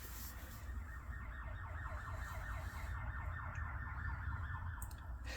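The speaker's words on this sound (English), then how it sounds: "It was a emergency vehicle going up and down the road." Emergency vehicle sirens on a road outside a house, a repeating wailing sweep heard from a distance, faint and muffled, continuing steadily.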